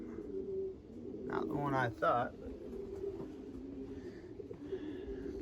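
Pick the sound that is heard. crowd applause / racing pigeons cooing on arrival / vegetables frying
racing pigeons cooing on arrival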